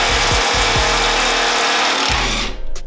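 A small impact wrench rattles through several short bursts, undoing bolts on a Mazda Miata during a headers and HKS exhaust install, loud and close with brief pauses between hammering runs.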